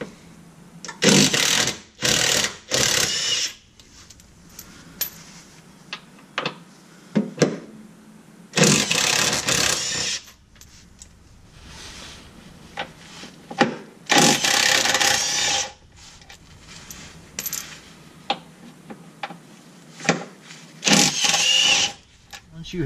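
Power tool buzzing in short bursts removing 15mm bolts under a 2018-2019 Ford Mustang, several loud whirring runs separated by quieter gaps and faint clicks.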